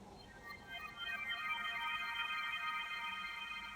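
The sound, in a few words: two synth notes from Vital with reverb and EQ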